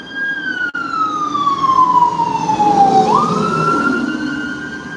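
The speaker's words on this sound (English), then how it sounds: "That sound like an ambulance. Fire truck sirens." A fire truck siren wails loudly, its pitch sliding slowly down then sweeping back up, with a low rumble of traffic underneath and no talking.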